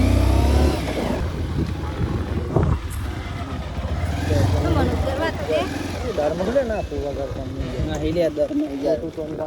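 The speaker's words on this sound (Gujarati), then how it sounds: "બાઈક ચાલી" A motorcycle carries a family along a rural road toward their farm, its engine droning steadily underneath near, continuous conversation.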